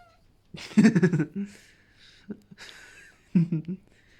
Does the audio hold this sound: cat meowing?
yes